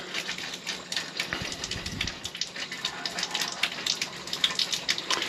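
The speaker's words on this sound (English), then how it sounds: "Turn this on, see if I can get some water to come out." Water runs from a tap in an RV, a steady splashing gush with uneven sputtering bursts, close and fairly loud with no voices.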